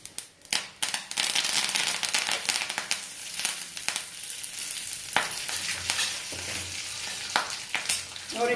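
Cumin seeds and curry leaves hit hot oil in a pan, setting off a loud, continuous sizzle broken by sharp pops and spattering crackles throughout.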